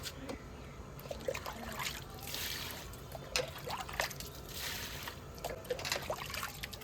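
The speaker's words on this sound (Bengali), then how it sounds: "এবার মাটি ধরে ভিজাই দেবো জল দিয়ে" Water splashes and trickles onto soil, wetting it in uneven bursts of pouring and dribbling, faint and close, with quiet outdoor background noise.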